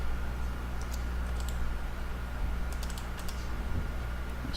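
Steady, rapid key taps on a computer keyboard as CAD commands are typed in, close and continuous over a constant low hum, with no speech.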